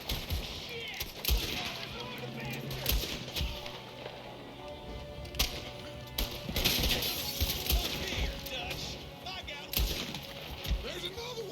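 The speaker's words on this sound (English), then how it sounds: "There's another one shooting from the window." Gunfire crackles through a Red Dead Redemption 2 shootout: scattered sharp shots, some in quick bursts, ring out amid game noise and talking voices, with louder volleys near the middle and end.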